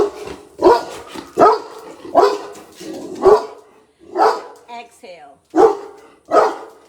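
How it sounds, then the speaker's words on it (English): A dog barks at a horse outdoors, giving about nine sharp, evenly spaced barks close by, with a voice speaking briefly between them. "The dog is barking at the horse."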